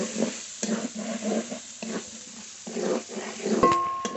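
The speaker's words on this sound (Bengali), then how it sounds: "এবার মটরশুঁটিগুলো দিয়ে দেবো ভালো করে ভেজে নেব" Green peas frying in a pan with turmeric, bursts of sizzling and scraping stirs come in uneven pulses with short gaps, ending with a sharp clink of a utensil against the pan.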